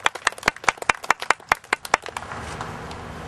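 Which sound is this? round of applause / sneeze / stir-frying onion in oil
round of applause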